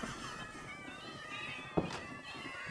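A cat in the Minecraft video game meows repeatedly in drawn-out, wavering calls, with a short dull thunk partway through and no talking.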